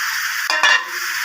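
Taro stems with potatoes and prawns frying in a pan, a steady close sizzle with a brief scrape of stirring in the middle.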